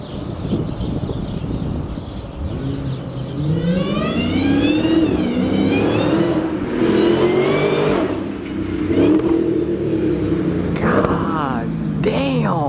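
A stock-exhaust Dodge Challenger Hellcat drives past and revs, its engine rising in pitch in several climbing pulls with a supercharger whine, loud and close, while people talk over it.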